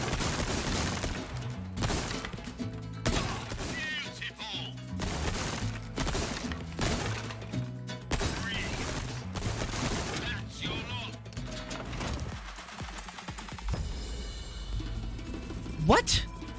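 Gunshots shattering targets in a Resident Evil 4 Remake shooting gallery, a dense run of sharp cracks and breaking smashes in quick irregular bursts, loud and near, with a voice talking through parts of it.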